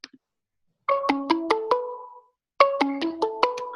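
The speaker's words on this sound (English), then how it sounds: "somebody's calling my phone?" A phone rings with an incoming internet call, probably through Google Hangouts or Google Voice: two bursts of a bright multi-note ringtone melody, clear and fairly close, separated by a short silence, with no talk over it.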